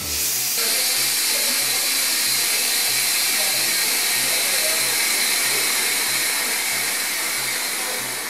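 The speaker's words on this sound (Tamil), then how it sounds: "நம்ம இதை ஆஃப் பண்ணி ப்ரெஷர் ரிலீஸ் பண்ணிவிட்டு அந்த பவுலை வெளியில் எடுத்துக்கலாம்" Steam hisses steadily and loudly from a pressure cooker as its pressure is released after cooking carrot soup, a continuous broadband rush lasting several seconds with a faint low pulsing beneath.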